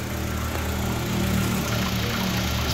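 A used family car's engine idles during a condition check, a steady low mechanical hum with faint rattle, constant and close with no talk.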